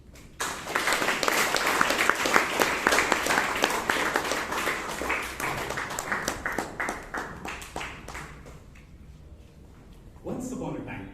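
An audience at a Bangalore Toastmasters meeting applauds a speaker, with dense, steady clapping that gradually thins and fades before a voice starts talking near the end.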